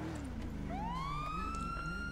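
A police car siren in a video game rises into a steady, sustained wail over a low engine rumble, loud and close, with no talk.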